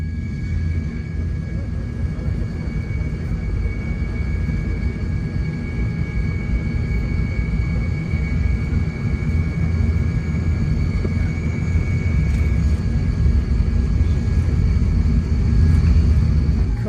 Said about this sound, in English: We're taking off now.